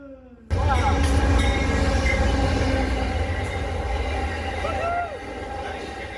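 Four MTH Premier 3.0 model trains race side by side, two of them SD70 Ace locomotives, giving a steady loud rumble of wheels on track with faint squeals and a drop in level near the end.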